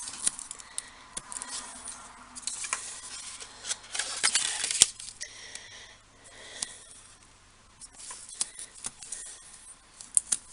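Paper is torn by hand to make an envelope flap in a crafting project, heard as close, crisp ripping and rustling in short bursts with quieter handling between.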